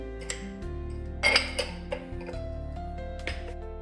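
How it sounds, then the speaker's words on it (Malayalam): Glass kitchen items, including a juice glass, clink together while being unpacked from new IKEA purchases, giving a few light, sharp chinks and taps spread over several seconds at close range with a low background hum. "ഞാൻ വേറെ കുറച്ച് ഗ്ലാസ് ഐറ്റംസും കൂടെ വാങ്ങിച്ചിട്ടുണ്ട്"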